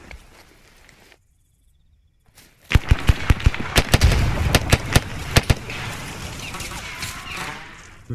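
Grenade blast and gunfire in a military video game: a quiet lull, then a sudden loud burst followed by a rapid string of sharp cracking shots over a dense rumbling wash of noise.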